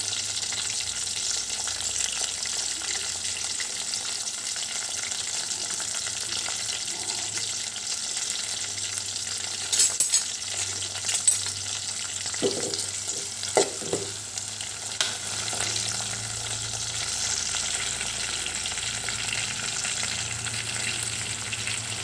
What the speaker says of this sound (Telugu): కొంచెం ఫ్రై కానివ్వాలండి, గోల్డ్ కలర్లో కొంచెం కలర్ మారాలి